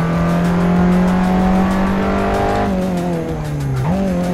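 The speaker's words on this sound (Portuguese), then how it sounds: "tô fazendo drift aqui de primeiro" A car drifts in the racing game Assetto Corsa, its engine droning steadily at high revs while the tires squeal continuously, the pitch dipping and wavering near the end, loud and close with no talk.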